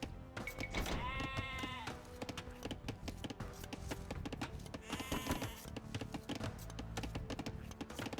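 Sheep bleat in Age of Empires II, two wavering calls standing out over busy game music and clicking, one early and one near the middle of the clip.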